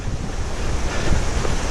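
A river flows beside a mountain trail in the Jura, a dense, constant rushing wash with low rumbling turbulence. It is loud and close, with some wind buffeting the microphone.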